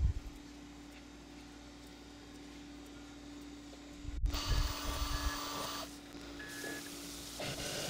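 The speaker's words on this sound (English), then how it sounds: "I'm spotting and drilling the two bolt holes for the vise bolts." A drill runs against steel, boring bolt holes for a vise, starting after a quiet hum with a sharp grinding whine, then settling into a steady mechanical drone with no talking.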